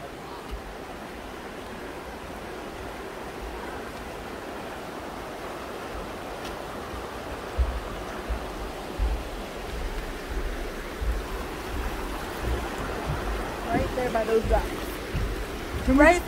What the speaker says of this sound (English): Got a little creek rivery area.